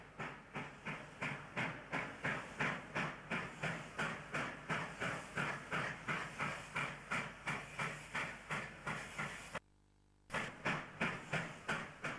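A New South Wales steam locomotive, number 1957, works coal stage duties at Broadmeadow Depot. It gives rhythmic, evenly spaced exhaust chuffs with hissing steam, moderately near and steady, with a brief silent gap near the end.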